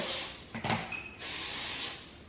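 Two steady hissing bursts of aerosol cooking spray onto ramekins, close by, with a light clink of a dish between them.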